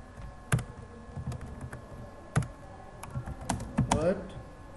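Quick, light clicks from a computer keyboard while text is typed into a Google Form quiz, close and irregular, with a few louder keystrokes and some faint background hum.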